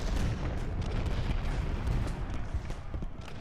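Civil War cannons and musketry in Ultimate General: Gettysburg, a rumbling battlefield din of low booms and scattered shots at a distance, fairly quiet and steady, with no speech.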